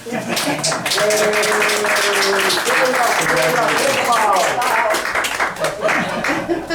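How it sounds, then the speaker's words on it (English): Attendees clap in applause at a town council meeting in Exeter, Rhode Island, a loud burst of mixed clapping with laughter and talking voices over it throughout. "We clap? Yes."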